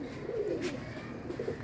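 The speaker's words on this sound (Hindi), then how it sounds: "टैडी सलारा कबूतर है, बेहतरीन और अलग किस्म का" A Salara pigeon coos nearby in soft, rolling low-pitched phrases repeated over a steady faint background hum.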